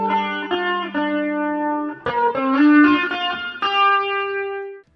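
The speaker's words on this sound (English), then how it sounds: "I'm using a little bit of overdrive. I'm using a compressor. I'm using a chorus effect," Electric guitar played through overdrive, compressor, chorus and reverb, a short melodic phrase of ringing sustained notes and a few chords, clear and alone, ending in a fading tail.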